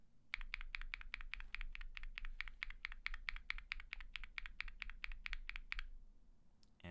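Stock Durock POM linear mechanical keyboard switches typed in a steady, rapid run of about thirty crisp, close keystrokes over several seconds, then stopping, with no talk.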